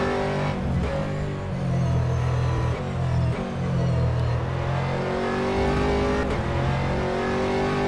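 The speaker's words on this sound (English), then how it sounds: "There's a faster car approaching." An Aston Martin GT3 race car in rFactor 2 at Imola revs hard through the gears, a loud close engine note rising and falling with shifts and no talk over it.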